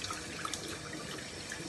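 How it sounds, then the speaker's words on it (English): Warm tap water runs steadily for face washing in a sink, a close, even splashing stream with no voices. "Go in with the warm water, and then I like it quite scalding."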